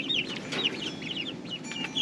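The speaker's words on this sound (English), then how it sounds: "These chickens and guineas do not like them." Chickens and guineafowl cluck and chatter continuously at a moderate distance, several birds overlapping in quick, busy calls.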